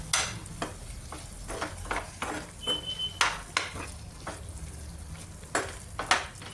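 Spoon scraping and stirring eggplant and potato curry in a pan, with a soft steady sizzle and a run of sharp, irregular metallic clinks and scrapes close by, no talking.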